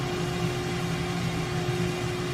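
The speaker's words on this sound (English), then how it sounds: "That would be the APU powering down that we're hearing." An F-18's APU powering down in a flight simulator game: a steady, even hum with a sustained tonal whine and broadband noise, unbroken for the brief stretch.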